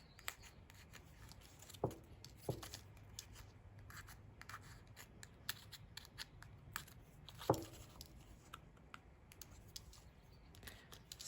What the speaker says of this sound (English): I'm just using these tweezers to punch it out.